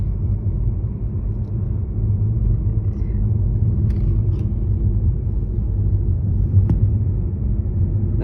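A car drives along Going-to-the-Sun Road in Glacier National Park, Montana, its steady low engine and road rumble continuous and close throughout, with a few faint higher clicks and no talking.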